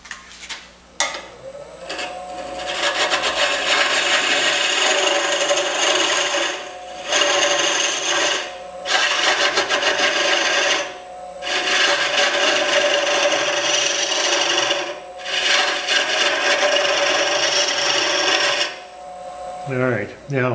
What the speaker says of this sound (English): this is a carbide cutting head on that, and I'm going to use this to go down even further